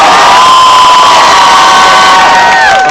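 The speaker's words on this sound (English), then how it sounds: "I really appreciate the crowd out here. You guys are loud." A large crowd roars and cheers continuously at a Texas football torchlight rally before the Oklahoma game, a dense, very loud wall of shouting with whistles and high voices.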